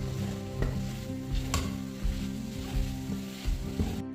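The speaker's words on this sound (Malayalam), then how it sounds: "ഇനി ഇത് നന്നായി ഇളക്കി യോജിപ്പിക്കാം." Cooked raw banana mixed with ground coconut chutney in a pan, repeated close scraping stirs with low clinks of spoon on vessel at a slow, regular pace.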